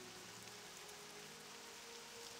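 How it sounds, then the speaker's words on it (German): Rain falling in World of Warcraft: Burning Crusade, a soft, even patter of raindrops forming a faint continuous wash with no talking. "Und es regnet noch immer."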